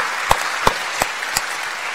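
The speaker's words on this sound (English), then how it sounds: "Now you can applaud." An audience at a 2018 State of the University address claps in a brief, dense burst, with a few louder claps standing out at a steady beat.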